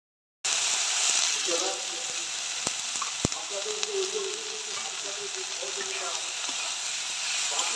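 Onions frying in oil for a prawn and jackfruit dish: a steady, close sizzle that continues without a break, with a couple of sharp utensil clicks early on.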